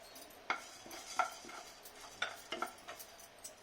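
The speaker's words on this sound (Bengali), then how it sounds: "গোলমরিচ, ধনিয়া, জিরা মশলাগুলোকে একটু ভেজে গুঁড়া করে নেব।" Black pepper, coriander seeds and cumin dry-roasting in a pan, heard as soft rustling with a handful of sharp scraping stirs against the metal, quiet and close.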